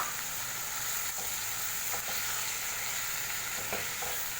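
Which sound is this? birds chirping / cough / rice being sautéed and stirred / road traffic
rice being sautéed and stirred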